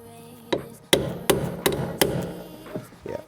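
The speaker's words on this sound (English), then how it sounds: "we're gonna have to carry on with a hammer and chisel on this" A hammer drives a chisel against a corroded rear shock absorber bolt on a Land Rover Freelander 2, six or seven sharp metallic strikes in an uneven rhythm, close and fairly loud, with faint ringing between blows and no talk.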